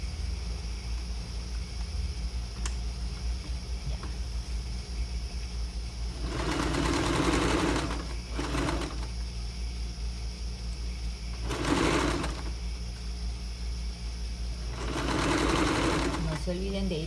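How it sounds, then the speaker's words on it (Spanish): Sewing machine stitching a raglan-sleeve blouse at a half-centimetre seam, three short fast bursts of close mechanical rattling separated by pauses over a constant low hum. "Y todo esto lo voy a coser a medio centímetro."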